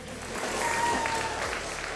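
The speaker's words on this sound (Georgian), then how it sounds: "აპლოდისმენტებით გავაცილოთ ირაკლი საგინაძე" A crowd at a grappling wrestling event applauds a departing wrestler with steady, dense clapping that fills the hall, while a faint tone and low murmurs sit underneath.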